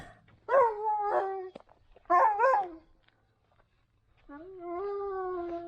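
A puppy on a lakeside walk gives three bursts of high, drawn-out barking and whining cries, close and fairly loud, separated by short quiet gaps.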